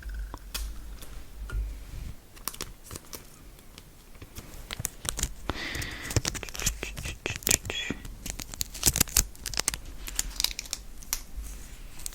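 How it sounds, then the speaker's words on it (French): Rapid crackling and ripping sounds of adhesive tape being pulled and torn, close up, in irregular bursts with faint room noise. "Je vais faire un autre bout de scotch"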